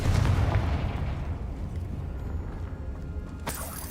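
A fiery Confringo spell blast in the Hogwarts Legacy video game opens with a loud, booming burst that rumbles away over several seconds, followed by a second sharp crack near the end; no speech.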